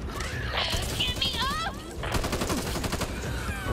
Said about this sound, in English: Gunshot. Gotta reload.